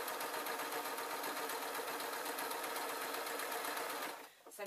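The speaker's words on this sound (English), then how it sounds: "I'm going to finish off the sew." A sewing machine stitches a fabric glasses case, its rapid even mechanical chatter running loud and close before it stops abruptly near the end.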